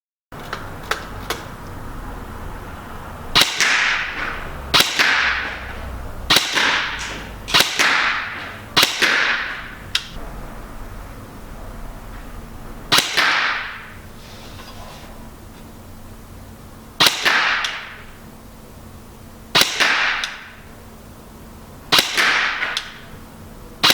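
An ICS CXP15K airsoft gun fires .25 gram BBs on a calm, windless range. The shots come as about ten sharp, whip-like cracks at irregular intervals, each one loud and close against a low, steady background hiss.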